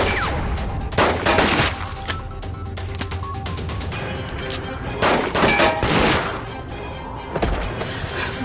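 Gunfire in a 2014 Hong Kong TVB police drama: loud, close bursts of shots, several volleys with short gaps between them, over a noisy action scene.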